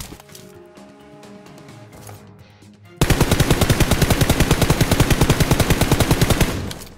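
Rapid automatic gunfire in the mobile shooter game Peace Elite bursts in loud and close after a few quiet seconds, a long, steady stream of shots continuing almost to the end.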